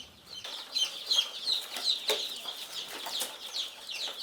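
Day-old kienyeji chicken chicks on a Kenyan poultry farm, packed in perforated cartons, chirp in a busy overlapping chorus of high, thin peeps, fairly close and continuous with no one speaking.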